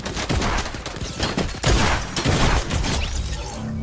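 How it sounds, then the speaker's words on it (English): A suppressed pistol fires in a video game, emptying a full magazine as a rapid string of sharp, muffled shots close up, with clattering bursts throughout. "I killed you in one mag with a suppressed pistol."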